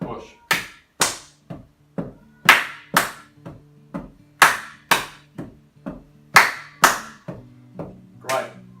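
Sharp hand claps and slaps repeat in a steady, patterned rhythm, close and loud, with a faint hum beneath.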